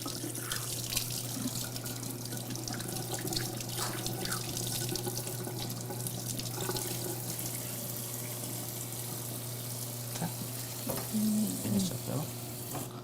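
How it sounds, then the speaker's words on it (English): A kitchen tap runs steadily while hands are rinsed under it, a continuous close hiss of water with faint splashes and clinks, and a brief voice near the end. "Now I'm going to rinse my hands right quick."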